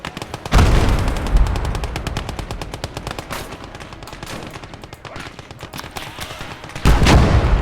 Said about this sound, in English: That's the anti-tank gun.